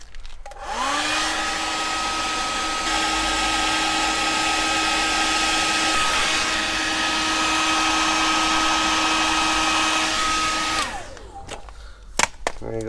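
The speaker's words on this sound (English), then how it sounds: "I haven't got a heat gun, so I've stole my daughter's hairdryer." A hairdryer runs steadily at close range, heating the vinyl on a Honda Deauville 650 motorcycle mirror, its whine holding for about ten seconds before it switches off and a few clicks follow.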